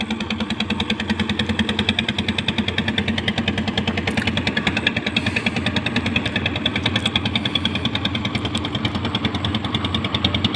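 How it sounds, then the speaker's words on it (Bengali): A trawler boat's engine chugs on a river in a fast, steady, even knocking rhythm, loud and unbroken from start to finish. "নদী দিয়ে ট্রলার যাচ্ছে অনেক সুন্দর"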